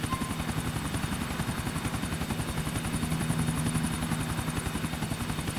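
A helicopter in the video game GTA 4 flies with a steady, loud rotor chop, rhythmic thumping blades over a continuous engine whine that holds constant throughout, heard from inside the aircraft.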